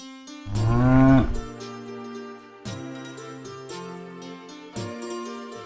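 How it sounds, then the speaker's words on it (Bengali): A hungry cow in a Bengali village cartoon lets out one loud, long moo, followed by soft jingling bell tones and a gentle musical background. "গরুটা যে খিদের জ্বালায় ডেকে ডেকে মরে গেল।"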